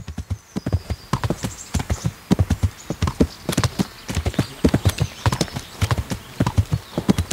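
Horse hooves clip-clop in a steady, brisk rhythm throughout in the medieval game Kingdom Come: Deliverance, close and clear, with a brief whinny and no talk.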